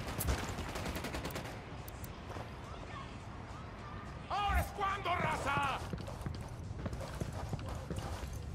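Gunfire in the video game Ghost Recon Wildlands sounds as rapid bursts of shots mixed with clattering hoof-like thuds and a voice calling out, busy and fairly loud throughout.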